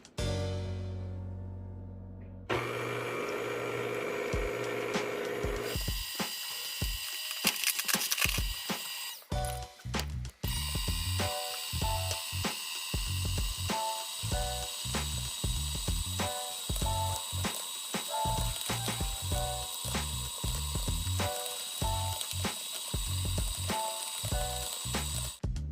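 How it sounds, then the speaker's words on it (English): A stand mixer works bread dough with a rhythmic, mechanical knocking and whirring that keeps repeating steadily up close after a brief start-up, with no talking. "So I will be using a stand mixer to get my dough ready"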